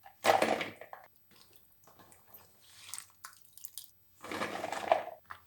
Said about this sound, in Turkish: Ve daha sonra bol suda kaç kez yıkıyoruz.